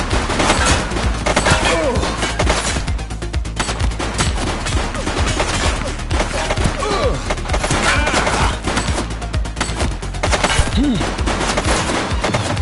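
Dense gunfire in The Precinct, a police game on PS5, with rapid overlapping shots and bursts crackling steadily across the whole stretch, loud and close, against a busy game soundscape.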